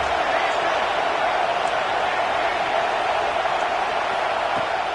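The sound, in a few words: football crowd making noise on third down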